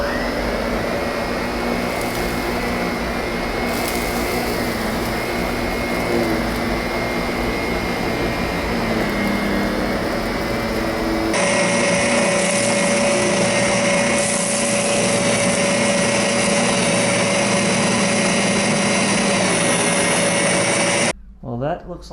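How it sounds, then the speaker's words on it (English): A loud Zero-G F3d vacuum cleaner picks up cereal, cat litter, flour and dog hair from carpet, running continuously with a steady high whine, its pitch shifting midway, then cutting off abruptly at the end. "Do a carpet pickup test with the 0G vacuum cleaner."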